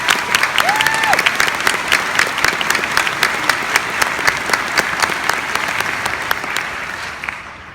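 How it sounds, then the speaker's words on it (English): An audience at a CPCU insurance conference in Hawaii applauds in a loud, dense, steady round of clapping that carries on for the whole stretch, with a brief tone early on. "Let's give ourselves another round of applause"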